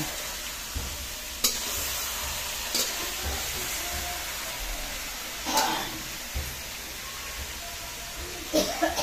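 Mutton sautés in oil with tomato, onion, ginger, garlic, chili, cumin and coriander powder, salt and turmeric, producing a dense, continuous close sizzle with occasional louder stirring scrapes and spoon knocks.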